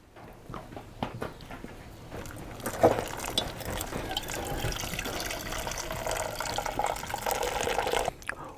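Hot water poured from a kettle over ground coffee in a pour-over filter during the bloom stage, a steady close splashing trickle with small drips that grows fuller and ends abruptly.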